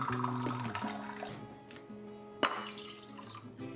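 Water is poured and measured into a cup for pie crust dough, a short gurgling trickle with a sharp splash partway through over a low background hum.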